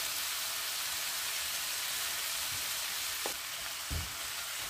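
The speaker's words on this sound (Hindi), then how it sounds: "मूली की सब्ज़ी अच्छी तरह से फ्राई होना शुरू हो गई है।" Radish sabzi fries steadily in a pan, a dense, continuous sizzle running throughout with a few soft scrapes of a stirring spoon near the end.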